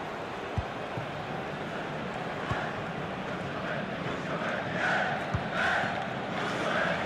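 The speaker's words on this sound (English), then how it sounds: "Just listen to the crowd, Derek, urging their team on." A large stadium crowd in the FIFA 21 video game roars steadily throughout a Real Betis vs Atletico Madrid match, a broad wash of cheering with a few sharp thuds and swells near the end.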